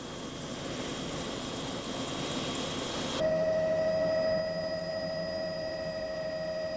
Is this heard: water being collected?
no